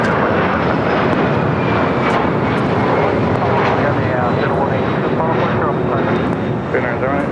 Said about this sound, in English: And the Asiana A380 Super now cleared for takeoff on 25 left.